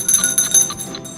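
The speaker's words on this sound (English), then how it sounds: "Ring that bell." A game show bell rings with bright, sustained metallic tones and a few quick repeated strikes, loud and close, with no talking over it.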